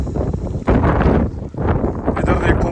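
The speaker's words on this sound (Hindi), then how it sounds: "बहुत तेज हवा है।" Strong wind blows across a mountainside in Zanskar during a bike ride, a loud, gusty roar buffeting the microphone in surges, with a brief lull in the middle.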